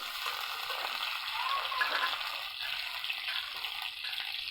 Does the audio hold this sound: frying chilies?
yes